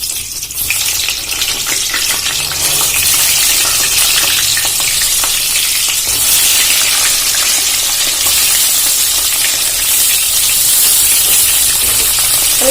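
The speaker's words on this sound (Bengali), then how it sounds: "তেলটা গরম হয়ে গেছে, আমি এর মধ্যে পটলগুলো দিয়ে ভেজে নেব।" Pointed gourd (potol) pieces frying in hot white oil, a steady loud sizzle with bubbling crackle running unbroken throughout, close up and with no voices.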